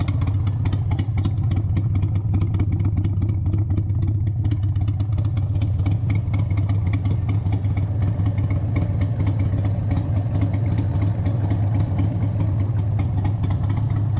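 A 1996 Harley-Davidson Sportster 883 XLH idles steadily with a small carburetor-related misfire, its low, even V-twin thump and mechanical clatter continuous and close, with no voices.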